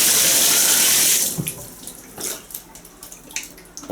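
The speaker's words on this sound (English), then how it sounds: "Shower seems to work alright." A hotel shower at a Travelers Inn in Staunton, Virginia runs in a steady close hiss for about a second, then cuts off, leaving scattered drips and splashes fading in the tub.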